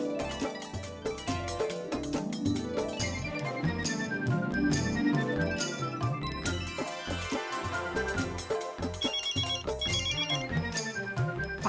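A telephone plays a musical ringtone early in the morning in a comedy-serial household; the melody rings continuously, loud and near, for about twelve seconds with no one speaking.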